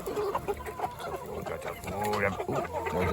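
Meat chickens cluck in a busy flock while feeding, a dense run of overlapping clucks and calls close by, with a person talking over them.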